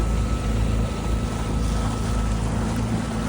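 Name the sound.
boat moving on the water in Kerala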